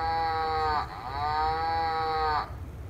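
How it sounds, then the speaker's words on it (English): A cow moos in a barn, two drawn-out, fairly loud lowing calls back to back with a faint break between them, over low background rumble and no talking. "Cow moves in the barn."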